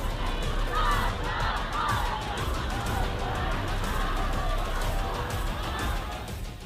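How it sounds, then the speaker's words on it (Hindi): Mourners in Abdanan, Iran, chant anti-Khamenei slogans at a protester's burial, a mass of voices shouting in repeated rhythmic bursts that carry on steadily, somewhat distant. "इस दौरान भीड़ आयतुल्लाह खामेनेई मुर्दाबाद के नारे लगा रही थी"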